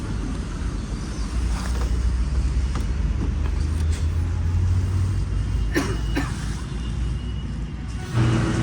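A Nepali truck's six-cylinder engine runs nearby with a steady, loud low rumble, a few brief clicks and knocks riding on top.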